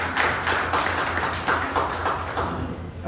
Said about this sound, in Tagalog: Isang malakas na palakpak sa Panginoon.